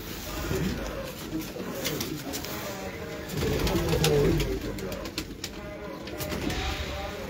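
Pigeons cooing in a Lahore loft, including prized rare breeds, make a low, murmuring coo that repeats on and off over a steady background hum. Someone talks intermittently close by.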